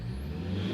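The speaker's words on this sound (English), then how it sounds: "I think I can hear the turbo." Toyota Corolla Verso D-4D diesel engine with its turbo spooling, a short near, low engine drone rising slightly, with a faint high whine above it.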